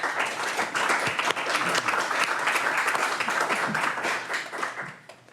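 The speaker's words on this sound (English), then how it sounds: "We just clapped for you." Sustained applause from an audience at an author-meets-critics book event, a dense, steady wash of many hands clapping that holds evenly before fading out at the end.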